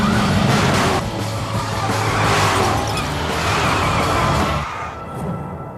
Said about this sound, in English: Introducing the new 320 horsepower V8 Cadillac